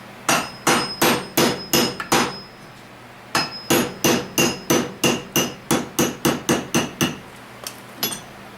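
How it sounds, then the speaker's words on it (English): A solid hammer strikes a punch to drive a roll pin out of a distributor, ringing metallic blows in two steady rapid runs of about six and thirteen hits, loud and near, with a short pause between. "Take the roll pin and a good solid hammer. And drive the roll pin, punch."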